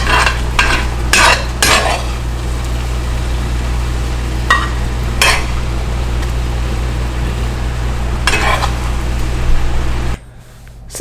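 Round steak frying in a skillet while being stirred, with a continuous loud sizzle, scraping and clinking of the utensil in the pan, and a low steady hum beneath.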